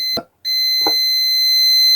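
A continuity tester's loud, steady electronic buzzer tone sounds continuously while checking an iron's heating element, cut off briefly near the start, with a couple of short clicks or taps.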